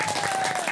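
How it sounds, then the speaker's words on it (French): A theatre audience at a French comedy show claps to vote for a story, a short, loud burst of dense applause from many hands with a thin steady whistle-like tone running underneath. "applaudissez s'il vous plaît"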